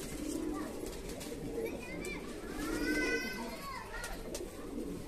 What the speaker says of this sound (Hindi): बहुत सारे कबूतर हैं, पक्के कबूतर